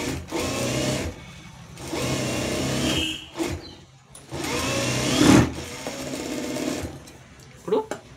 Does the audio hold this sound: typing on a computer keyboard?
no